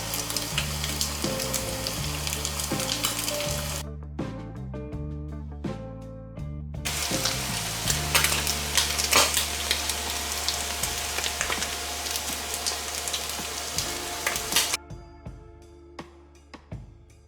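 Belly pork pieces frying in a pan, a dense continuous sizzle and crackle with a brief dip partway, close and steady with no talk.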